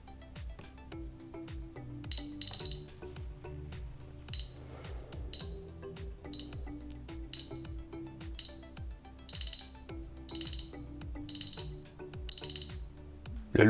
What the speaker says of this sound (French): les 10 dernières secondes, le carillon bip plus rapidement